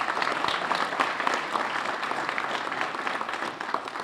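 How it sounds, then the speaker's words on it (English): Sustained audience applause closes a Chamber of Commerce legislative breakfast forum as sponsors are thanked, a steady dense wash of many hands clapping at moderate volume for about four seconds. "Let's have one final round of applause for all of this year's sponsors."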